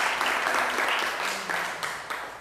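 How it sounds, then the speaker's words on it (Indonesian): A church congregation applauding during a visit to an orphanage, a dense wash of clapping and some cheering that fades slightly over a few seconds. "tepuk tangan buat Tuhan"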